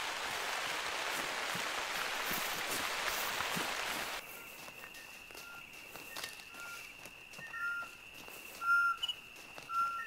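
Rain in the video game The Hunter: Call of the Wild hisses steadily for about four seconds, then cuts off, leaving a quieter outdoor scene with faint footsteps and a thin, high tone.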